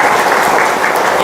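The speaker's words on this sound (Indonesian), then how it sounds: "Tepuk tangannya yang keras." Loud, dense applause from a gathered audience at a religious devotional gathering, a close continuous burst of clapping lasting just over a second.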